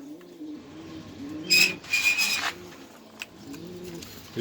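Pigeons at a pigeon farm coo in soft repeated rolling phrases close by, with a brief rustle or flutter partway through.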